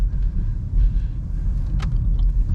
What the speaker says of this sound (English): You can hear the car's tires working through the snow that's cutting through, ripping that snow